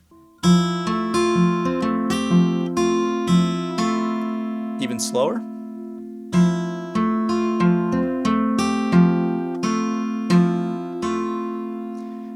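Steady plucked guitar chord pattern, notes picked one after another in a slow, even rhythm, with a brief spoken remark partway through.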